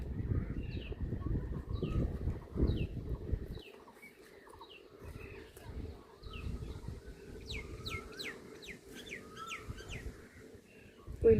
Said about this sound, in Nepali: कोइली कराउँदैछ कु